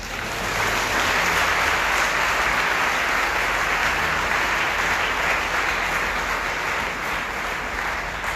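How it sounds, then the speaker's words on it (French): A church congregation applauds loudly and steadily, dense clapping that holds for several seconds with no talking. "Applaudissement du public pour encore un peu."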